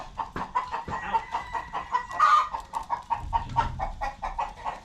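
Chickens cluck in a farm chicken house in Oklahoma, a busy run of short, rhythmic clucks and a brief squawk, fairly close and moderately loud, with no talking.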